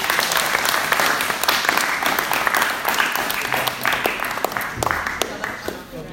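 An audience at a motivational talk claps steadily, a loud close patter of many hands with individual sharp claps standing out, fading slightly toward the end while voices murmur underneath.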